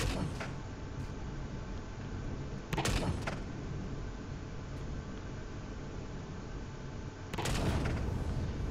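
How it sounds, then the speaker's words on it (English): Rail guns firing in the space game Empyrion: a few sharp, heavy blasts stand out over a steady, dense mechanical rumble, with no talking. "These are the rail guns."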